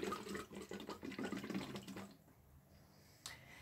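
Close, bubbly gurgling of air blown through a hose held 2–6 cm deep in water during a Lax Vox voice exercise for choir singers, lasting about two seconds, then a quiet pause and a faint trailing splash.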